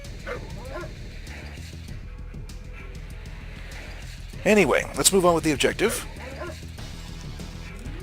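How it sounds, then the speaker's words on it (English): Attack dogs in the Red Alert strategy game give a quick burst of loud, close barks and yelps in the middle. Someone talks over the steady game background before and after the barking. "this is why I don't like using attack dogs"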